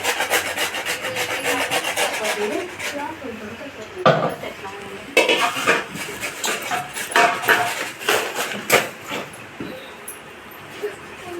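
Dry coconut (copra) grated by hand, a rough rasping scrape repeated in quick irregular strokes, close by, with a dog whimpering and people talking in the background.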